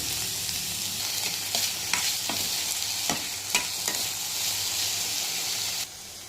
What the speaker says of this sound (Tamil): தக்காளியும் கொஞ்சம் வதங்கட்டும்.